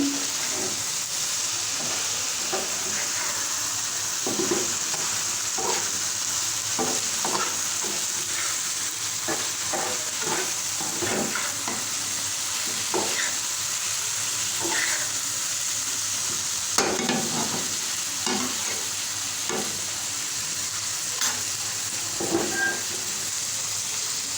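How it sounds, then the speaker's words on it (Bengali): Sliced bitter gourd fries in oil over a lowered flame, giving a steady even sizzle throughout, with periodic scraping and clinking of a spatula stirring the pan, close and continuous, with no voice. "মাঝে মাঝে কিছু নেড়ে দিতে হবে।"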